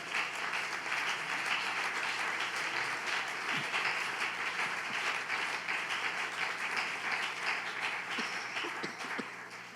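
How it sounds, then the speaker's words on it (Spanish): A church congregation applauds with dense, sustained clapping that holds steady for the whole stretch and eases slightly toward the end. "Dele fuerte ese aplauso al Señor."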